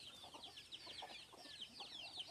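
Chickens cluck and chatter on a free-range duck farm in Thai rice fields, a busy run of overlapping clucks at moderate distance, fairly soft, with no talk.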